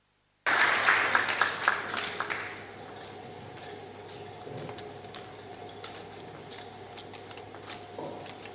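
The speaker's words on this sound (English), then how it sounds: "Please welcome her with a round of applause." Conference audience applause welcoming a keynote speaker at an energy transitions event, a short loud burst that fades after about two seconds into quiet room tone with scattered faint claps.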